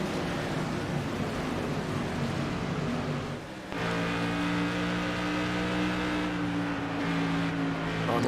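Modified race cars roaring in an iRacing sim race, a steady dense engine drone with sustained tonal whine that briefly dips before a car's pitch rises and holds strong, no talk.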